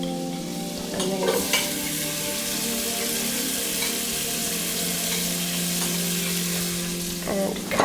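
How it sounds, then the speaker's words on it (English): Onions braise in butter in a pan for a prawn curry, giving a steady close sizzle with a few brief scrapes of stirring near the start and end. "I'll start braising the onion in some butter"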